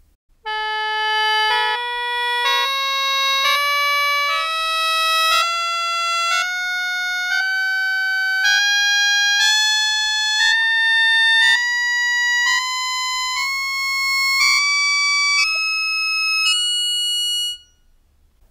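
Sho mouth organ pitches played one by one from lowest to highest, a rising series of sustained reedy tones, each held about a second, clear and alone.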